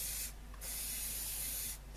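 Cleaner sprayed from an aerosol onto parts of a Perdio Continental PR73 radio during repair: two long hissing bursts close by, the first brief, the second longer and sustained.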